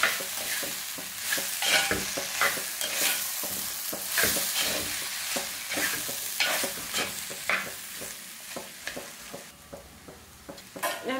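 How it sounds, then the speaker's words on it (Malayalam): Drained tapioca being stirred into pressure-cooked sardines, a run of close, repeated scraping and stirring strokes with a light sizzle underneath, no voices. "ഡ്രെയിൻ ചെയ്തെടുത്ത കപ്പ ഉണ്ടല്ലോ കൊടുക്കാം നന്നായിട്ടൊന്ന് മിക്സ് ചെയ്ത് കൊടുക്കാം"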